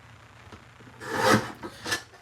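Paper trimmer slicing through card, with a quiet scrape and then two quick rasping cuts, the first longer and louder, close up in a quiet room.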